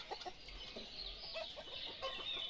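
Chickens clucking in the farming simulation game Ostriv, a flock of fowl giving soft, overlapping clucks against steady ambient game background noise, with no talking.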